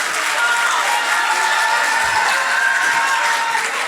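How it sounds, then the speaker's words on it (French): Audience applause at a French live comedy show, steady dense clapping throughout, loud and close with no break. "Bravo Jawad, ça s'applaudit, mesdames et messieurs."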